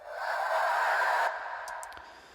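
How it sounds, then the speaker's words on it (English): A processed, stretched female breath sample swells as a soft airy exhale, holding steady for over a second before cutting off, followed by a few faint clicks, close and alone. "the first sound is this breath female sample"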